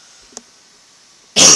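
A single short cough at a distance, followed by silence and then a loud burst of noise at the end, over a faint steady hiss.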